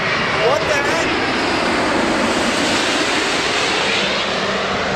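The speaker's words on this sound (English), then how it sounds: "seeing big old planes just fly over you is pretty cool" A big passenger plane flying low overhead near an In-N-Out restaurant in America, a loud steady roaring rush filling the whole stretch, with people talking beneath it.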